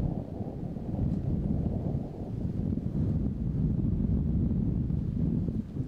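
Steady wind gusts buffet the microphone outdoors at a disc golf course during a tournament round, a continuous low rumble that swells and eases without pause.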